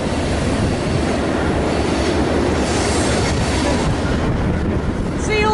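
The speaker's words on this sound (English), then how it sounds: "Train going by underneath." A train rumbles past close by, directly underneath an open-grid bridge, with a continuous heavy roar, rattling wheels and a brief metallic squeal near the end.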